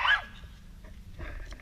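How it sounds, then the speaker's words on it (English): A dog gives a sharp yelp or short bark at the start, followed by quieter whimpering and rustling noises nearby, at a campsite in Daingerfield State Park. "Three barking dogs."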